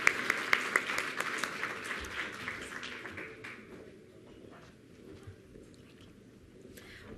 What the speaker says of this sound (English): please, a round of applause for the Secretary